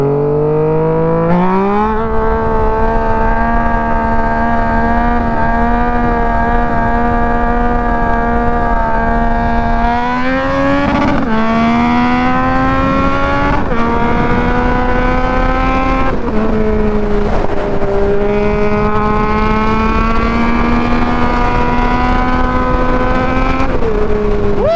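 A Yamaha MT-09 motorcycle engine revs loudly and close up, its pitch climbing and dropping in repeated surges as the throttle is worked, with no voices over it.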